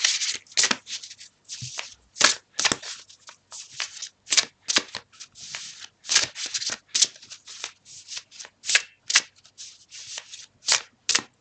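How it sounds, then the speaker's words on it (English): Oracle cards are shuffled again and again in a rapid riffling rhythm, close and crisp, with short pauses between bursts and no talk. "I'm going to shuffle"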